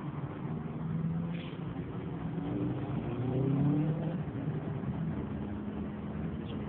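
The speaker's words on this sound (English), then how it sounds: "Rush hour traffic." Rush hour car traffic rolls past as a continuous low engine rumble and tire hiss, swelling slightly as a vehicle passes midway, steady and moderately close.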